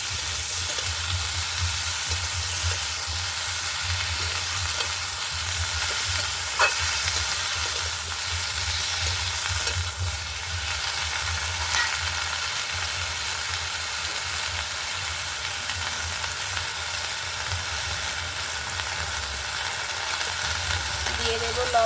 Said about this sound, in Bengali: বেগুন আর লাউ শাক। সবগুলো ভালো করে নাড়িয়ে নেব।